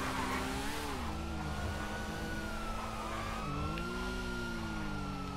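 A motorcycle engine in a video game drones steadily and shifts pitch up and down as it revs, a continuous tonal hum with no talking.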